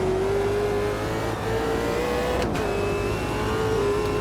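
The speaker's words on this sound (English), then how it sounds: "We'll slam down through some gears through here again in a moment." A sim racing video game car's engine drones loudly, its pitch dropping and then jumping as it downshifts through the gears, with a sharp clunk of the sequential shifter midway.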